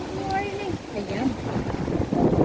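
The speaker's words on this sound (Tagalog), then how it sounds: "Wow. Sobrang hangin." Strong wind blows across an outdoor hilltop park in Singapore, a steady rushing rumble that builds louder near the end, with voices talking over it.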